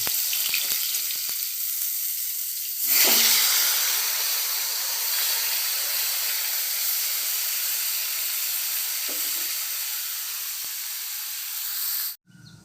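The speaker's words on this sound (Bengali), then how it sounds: "মাছগুলো আমি ভালো করে ভেজে নেব।" Fish frying in hot oil in a wok with a constant sizzling hiss; a louder burst of spattering comes early, then settles into an even crackle.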